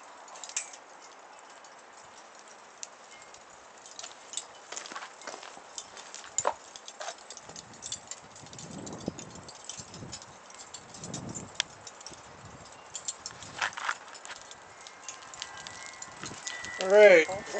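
Scattered sharp crackles and pops from burning charcoal, irregular and fairly faint, continue throughout with a quiet background.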